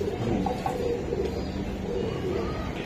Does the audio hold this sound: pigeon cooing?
yes